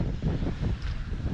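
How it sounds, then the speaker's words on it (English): Wind gusts through a marina beside a moored Leopard 45 sailing catamaran, with steady buffeting rumble against the microphone and a faint wash of water. "you can see the wind is definitely now here in the marina"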